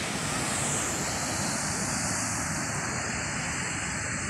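Estrella Falls waterfall in Narra, Palawan, Philippines, pours as a steady, loud broadband rush of water, constant throughout with no pauses and no voices.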